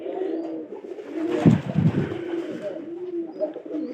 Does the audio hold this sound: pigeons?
yes